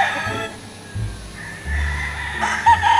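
White Kelso gamefowl rooster crowing at a game farm, a full cock-a-doodle-doo that rises and holds close and loud, followed by a short cluck at the end.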